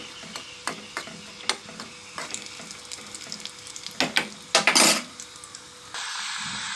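Something frying in a pan before homegrown amaranth greens go in, with a soft background sizzle broken by repeated clinks and scrapes of a utensil against the pan, and a denser burst near the end.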